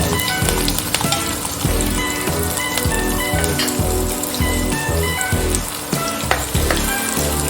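Finely chopped chilies and garlic sauté in hot oil in a pan for veg spring rolls, giving a loud, continuous, close sizzle with frequent crackles and stirring scrapes throughout.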